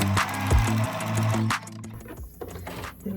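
A domestic sewing machine runs zigzag stitching on a small fabric curtain tie, fast mechanical clatter in short bursts with brief pauses between runs, close and fairly loud.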